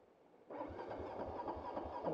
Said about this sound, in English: and a flooded engine.